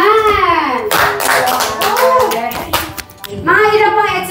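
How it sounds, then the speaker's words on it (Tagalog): Hands clapping in a lively home setting around a Christmas tree, rhythmic bursts of close claps mixed with a child's and adults' voices talking and calling over them. "Palakpak naman!"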